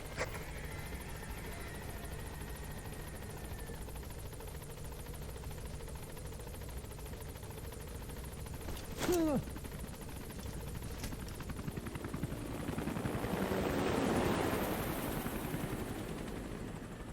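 A steady helicopter rotor drone from Metal Gear Solid V: The Phantom Pain fills the scene, with a brief sharp electronic chirp partway through and the engine swelling louder near the end.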